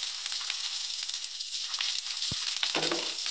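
Chopped ginger and onion fry in hot oil in a pan for a pumpkin chokka, a steady close sizzle with a couple of faint knocks of a utensil near the end, no talking.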